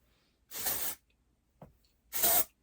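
Two short hissing bursts from an aerosol dry shampoo can sprayed into hair, about a second and a half apart, with a faint click between them.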